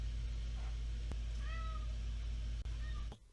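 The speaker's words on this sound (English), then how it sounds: "You hear Curtain Cat." A house cat meows once with a rising-falling call in a quiet indoor room at night, fairly near over a constant low hum, with a couple of faint taps around it.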